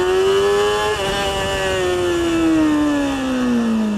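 A motorcycle engine revs hard in first gear for a wheelie, one loud sustained rising-then-easing drone close by.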